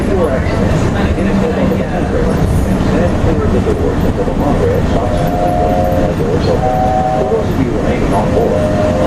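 A Walt Disney World resort train rumbles along with a steady rolling roar and clatter; a brief tonal whistle sounds twice midway, while people talk nearby over the noise.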